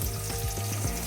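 Pumpkin slices fry in a pan for a Bengali home-cooked birthday meal, giving a close, steady, loud sizzle and crackle with a few soft stirring shifts and no talking.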